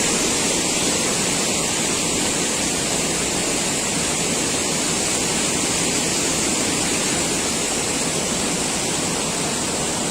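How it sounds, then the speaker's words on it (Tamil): A waterfall in Kanyakumari district roars as a steady, loud, dense rush of water that fills the whole stretch without a break. "எத்தனை இயற்கை அழகு கூட்டி கிடக்கும் இந்த பகுதியில் இந்த அருவி அமைந்திருக்கிறது என்று பாருங்கள்"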